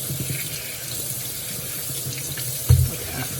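Cold tap water runs steadily into a kitchen sink while beets are rinsed, a continuous close splashing wash with a brief louder splash near the end.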